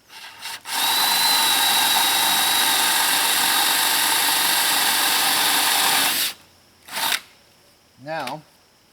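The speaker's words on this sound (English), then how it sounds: "Drill this down here." A power drill whirs loudly and steadily for about five seconds as it drives into pallet wood on a picket fence gate, then stops, followed by a couple of brief handling clunks.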